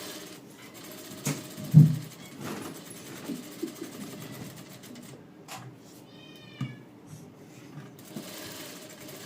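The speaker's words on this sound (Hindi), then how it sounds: "इसको भी जो है हमें सिलाई लगा लेनी है।" Sewing machine stitching a padded princess-cut blouse piece, with uneven bursts of whirring and needle clatter against quiet room noise, no talking.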